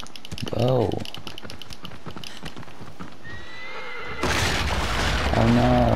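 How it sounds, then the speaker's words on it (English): Hooves clatter rhythmically and a horse whinnies twice in the Shadow of the Colossus video game, near and loud, with a rushing burst of noise joining in partway through and keyboard typing in the background. "I have to take the horse up here to make that jump."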